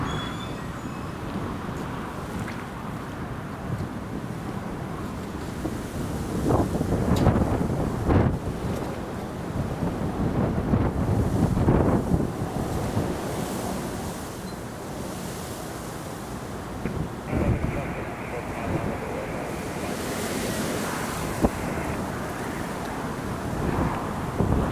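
Strong gusting wind buffets the microphone at Newcastle Airport during a January storm, a continuous loud broadband roar that swells and fades in gusts, with no talking.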